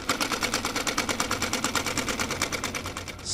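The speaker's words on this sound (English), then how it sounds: "the sound of a sewing machine came from the second floor" A sewing machine runs steadily in a horror story sound effect, its needle hammering in a fast, even clatter of roughly eight strokes per second, loud and close with no voices.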